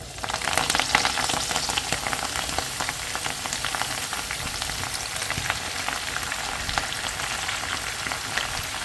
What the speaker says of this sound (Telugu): తర్వాత ప్యాన్లోకి ఇంకో 2-3 స్పూన్స్ ఆయిల్ యాడ్ చేసుకొని మనం తీసుకున్న గోంగూర అంతా వేసి బాగా ఫ్రై